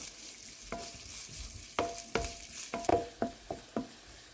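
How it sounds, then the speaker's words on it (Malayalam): Chopped garlic, ginger and green chilies sauté in a pan for beef cutlets, a low sizzle under a series of distinct spatula scrapes and knocks that come closer together toward the end, close up with no speech. "ഇപ്പോൾ ഏകദേശം ഒരു രണ്ട് മിനിറ്റായിട്ട് ഞാൻ ഈ ഇഞ്ചിയെല്ലാം വഴറ്റുന്നുണ്ടായിരുന്നു"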